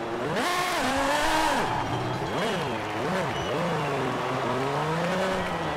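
A Lamborghini Essenza SCV12 track car engine revs up and down in loud sweeping waves, its pitch rising and falling repeatedly, heard close by with a voice talking over it.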